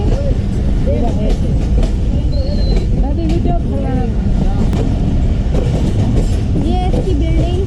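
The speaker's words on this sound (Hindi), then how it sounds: "ये अभी हमारी गाड़ी मंदवाला रेलवे स्टेशन पर पहुंच चुकी है।" A train pulls into Mandwala railway station, loud and close from on board, with a constant heavy rumble of wheels and rail noise and shrill squeals over it; voices are faintly mixed in.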